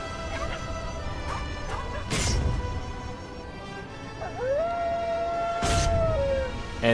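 Pet howl ability in a World of Warcraft pet battle, a rising and falling dog-like howl with crashing impact effects around it, heard in game audio.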